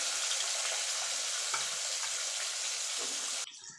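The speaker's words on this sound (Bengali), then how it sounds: "এবার আলু আর সিমটা ভেজে নেব ওই তেলে।" Potatoes and broad beans fry in hot oil with a loud, steady, close sizzle and a few soft stirring knocks, the crackle dropping away sharply near the end.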